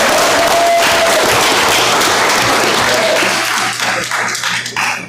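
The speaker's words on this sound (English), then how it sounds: "please give another round of applause for our new Chief Judge." A crowd at a city council meeting applauds a new chief judge loudly and steadily, the clapping gradually thinning out into scattered claps near the end.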